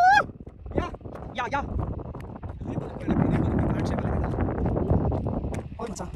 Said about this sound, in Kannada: ಗಾಳಿ ಬರ್ತಾ ಇದೆ